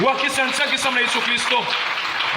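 A church congregation claps to acclaim the Lord, with scattered applause running under a loud voice speaking throughout.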